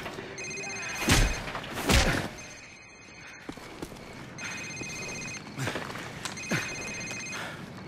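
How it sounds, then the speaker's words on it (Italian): A mobile phone rings repeatedly during a Call of Duty 4 scene, its electronic trill coming in regular bursts, interrupted by heavy thumps and footsteps in a quiet room. "Signore, il suo cellulare."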